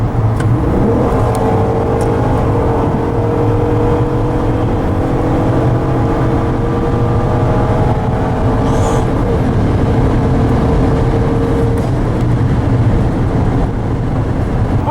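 2014 Ford Taurus engine pulling hard at full throttle from around 80 mph, a loud, steady, droning roar with a slowly rising tone under constant road and wind noise, no voices.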